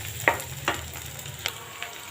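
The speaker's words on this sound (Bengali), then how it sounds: "পেঁয়াজটা একটু ভাজা ভাজা হইলে আমি রসুন আর আদা দিয়ে দিব।" Onions frying in a pan for vegetable khichuri with a steady close sizzle, and a few brief stirring scrapes and clinks on top. No one speaks.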